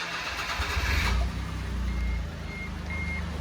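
A small car's engine, with its fault codes just cleared, cranks briefly and catches, then settles into a steady, slightly rough idle nearby.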